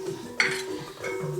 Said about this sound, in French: Alors on casse nos œufs